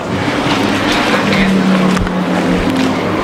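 A 1992 Toyota Kijang Super's engine runs steadily up close, a loud, continuous mechanical drone with a low hum that holds through the whole moment.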